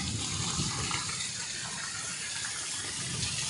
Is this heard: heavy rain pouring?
yes